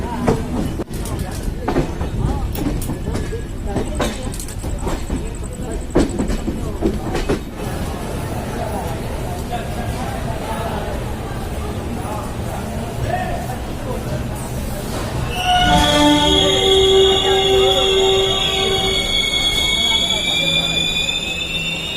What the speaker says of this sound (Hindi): हमारी ट्रेन जो है बनारस अराइव हो चुकी है 7:53 पर।